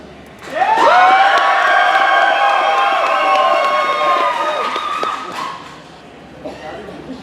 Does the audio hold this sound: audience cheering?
yes